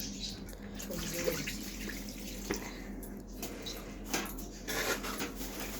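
Hands being washed under a running kitchen tap while handling a whole raw rohu fish, a steady faint splash of water with small bumps of dishes or movement at the sink, no speech.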